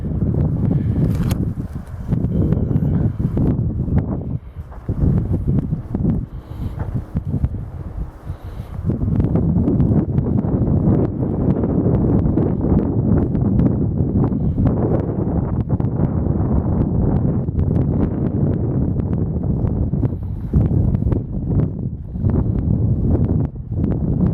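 Steady wind buffets the microphone outdoors in Marion, South Carolina, a loud continuous rumble with gusty surges and faint rustling, no voices.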